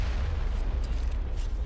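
A couple of faint, sharp sniper rifle cracks in the Mass Effect video game ring out over a steady, heavy low rumble of background game ambience.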